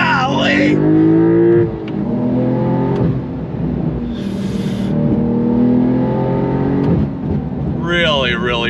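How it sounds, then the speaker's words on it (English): A 2022 Porsche 911 GTS accelerates at full throttle from a dead stop, its engine note rising in repeated climbing sweeps with gear changes in between, heard from inside the car while people talk and exclaim over it. "We got to do an on throttle from a dead stop, don't we?"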